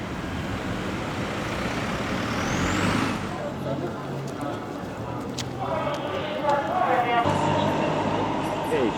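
A truck towing a car away on a street in Irkutsk, Siberia, with a heavy engine rumble, a hiss like an air brake, and passing traffic, while a person talks over it.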